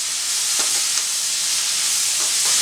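Four chopped green chillies frying in a pan for chicken Mumtaz, a soft steady hiss of oil with a few faint stirring scrapes, close and unbroken by speech.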